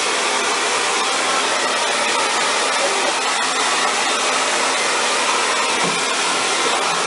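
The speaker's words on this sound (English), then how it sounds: "you can make this dryer go in a circular motion" Handheld hair dryer blowing hot air steadily through hair wrapped on a round brush during a salon styling demonstration, a loud, continuous, close roar that holds for the whole stretch with no talking.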